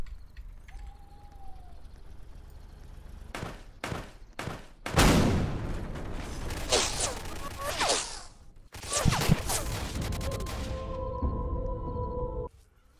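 Pistol gunfire in the Roblox game Apocalypse Rising cracks out as a few sharp separate shots, then a longer stretch of dense shooting and noise, with a steady tone near the end.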